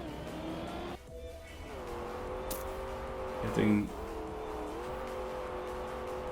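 A snow car in a racing video game, its engine droning and shifting pitch steadily, with a brief squeal partway through, under continuous commentary from a man.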